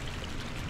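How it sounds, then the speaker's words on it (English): Continuous splashing and sloshing as a character runs through water in Dark Souls' Lower Undead Burg, a short, steady wash of churning water heard close without pauses. "Running through the water, running through the water."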